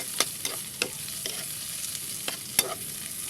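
Onions sizzle steadily in a frying pan while a utensil stirs them, giving sharp scraping clacks against the pan at irregular intervals over the continuous close frying hiss; no one speaks.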